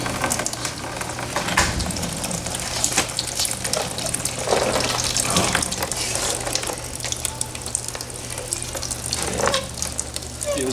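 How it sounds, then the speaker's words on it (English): Water pours and splashes steadily for several seconds out of a 6.2 diesel engine during teardown, a continuous gushing with occasional bursts, close up and with no voices. "That's a lot of water."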